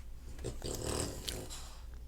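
A puppy snorts and snuffles in short, breathy bursts by a door, fairly faint and close by, with no talking.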